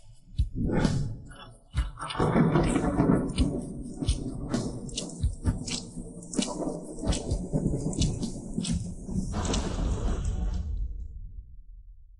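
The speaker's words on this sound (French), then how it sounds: "Avec toute cette pluie." Rain falls with a steady hiss, mixed with deep rumbling thunder. Several sharp drops or knocks stand out before the noise fades at the end.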